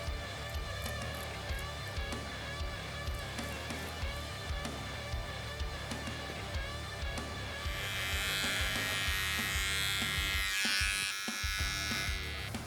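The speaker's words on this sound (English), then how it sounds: "I'm going to just razor his cheeks quick to give them a sharp line." An electric razor buzzes steadily at close range while a barber works over a client's cheeks in a barbershop, the motor tone wavering slightly as the blade moves across the skin.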